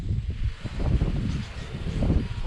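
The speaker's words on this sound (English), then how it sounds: "it's very windy out here today." Strong wind outdoors buffets the microphone in a steady, gusty low rumble with rustling, close and continuous, with no talking.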